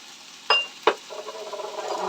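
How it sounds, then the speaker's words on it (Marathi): Tomato and spices roasting in a pan for a gravy masala: two sharp clinks from a spoon against the pan, then a soft, steady sizzle that slowly grows louder. "हे ग्रेव्हीचा मसाला करण्यासाठी भाजून घेतोय आपण."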